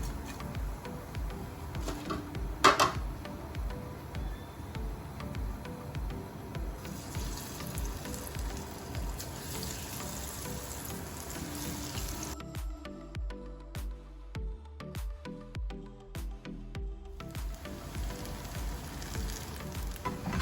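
Green moong dal vadas fry in hot oil in a new kadai, giving a steady close bubbling sizzle with a brief clatter near the start and a quieter stretch midway, no talk.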